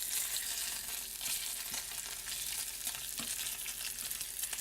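Bacon strips frying in a pan give off a dense, steady, crispy sizzle with fine popping crackles, close and continuous, with no voices.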